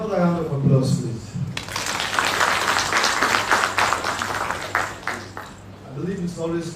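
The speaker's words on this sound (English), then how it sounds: "Another round of applause, please." An audience at an International Youth Day celebration breaks into sustained applause, a steady wash of clapping rising after a voice and lasting about five seconds before talk resumes.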